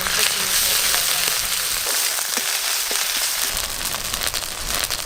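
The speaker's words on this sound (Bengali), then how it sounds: "আদা রসুন পেঁয়াজ একটু ভালো করে ভাজা ভাজা করে নিয়েছি।" Onion, garlic and ginger paste frying in hot oil in a pan for a stuffed pointed gourd dish, giving a steady, close, continuous sizzle with scattered crackles and faint stirring scrapes throughout.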